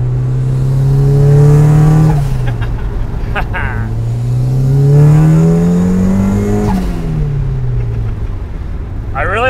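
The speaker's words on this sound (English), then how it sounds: "I really like the sound that the blow off valve is making now." Turbocharged Mazda Miata with new intercooler piping revving in strong rising and falling sweeps, about two pulls with the engine dropping back between them, close and loud, with blow-off valve releases at the lift-offs.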